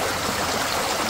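Mountain stream water rushing steadily, a dense constant gurgling hiss close by with no voices.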